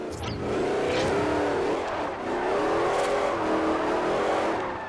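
A stock car engine in the Forza Horizon racing game screams under hard revving, a loud sustained wail rising and dipping through gear changes, close and continuous for several seconds.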